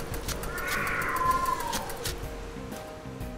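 A cartoon witch's cat meows in a Halloween truck wash scene, one drawn-out meow rising and falling over light background music, clear and fairly close.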